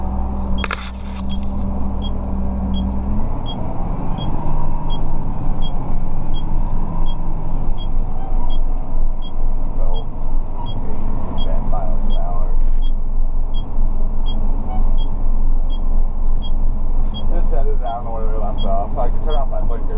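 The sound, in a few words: vehicle engine running while driving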